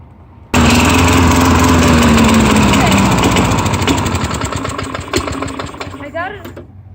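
A Tecumseh-powered Craftsman 4.5 hp lawn mower engine starts abruptly and runs loud and close, its buzzing drone settling toward a rougher idle with sputters near the end; a voice speaks briefly over it.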